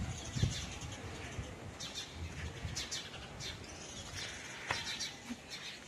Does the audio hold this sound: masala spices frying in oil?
no